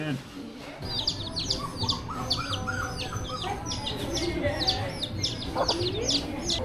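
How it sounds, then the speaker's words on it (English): Free-roaming chickens on Tortola in the British Virgin Islands cluck and chirp outdoors, with a busy run of short, bright calls and tweets repeating over a soft background. "Tortola has chickens everywhere."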